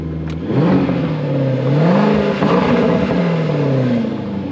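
A Lexus SC sports car engine growls and revs up and down continuously, loud and close, with a rough, throaty tone that rises and falls.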